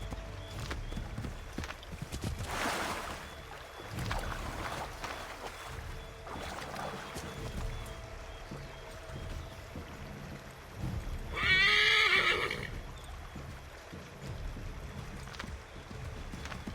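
In the Assassin's Creed 3 game, horses gallop with a steady patter of hooves and one loud, close whinny midway, over ambient game background.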